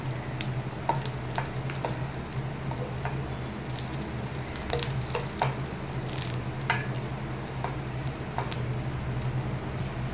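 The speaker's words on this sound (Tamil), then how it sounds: "சிம்மிலே வச்சு ஃப்ரை பண்ணிக்கோங்க" Garlic and chillies fry in oil with a constant crackling sizzle, punctuated by occasional scraping clicks of a spoon stirring the pan.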